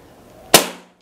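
A single sharp shot from a Ruger Classic Black Army PCP air rifle during a grouping test, a crisp close crack with a short fading tail, alone in a quiet setting.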